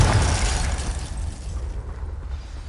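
A Confringo fire spell from Hogwarts Legacy bursts in a loud, close explosion, its heavy boom dying away into a rumbling, crackling tail over a couple of seconds, with no talking.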